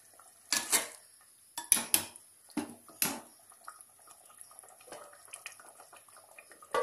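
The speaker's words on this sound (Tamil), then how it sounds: "தண்ணி ஊற்றி நல்லா தட்டு போட்டு மூடி 1-10 நிமிஷம் விடலாம்." In a home kitchen, water goes into a pan of oyster mushroom curry, then a plate is set over it as a lid, making several sharp metallic clanks and clatters followed by softer clinks, close and without talk.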